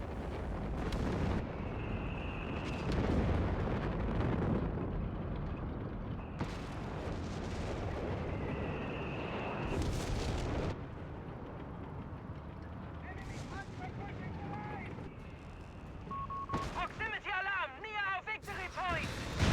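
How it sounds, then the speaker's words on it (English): Artillery fire from a Bishop self-propelled gun in a WWII real-time strategy battle, heard as repeated booming blasts and broadband bursts over steady game ambience, with a voice talking throughout. "Bishop firing on this guy there."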